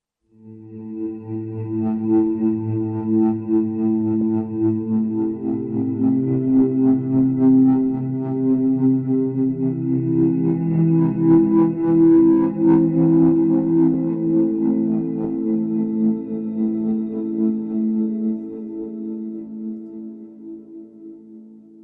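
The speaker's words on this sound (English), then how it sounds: "Let's check out a few pulses." A pulsing, distorted electric guitar texture swells and sustains with heavy effects and reverb, droning with harmonic overtones.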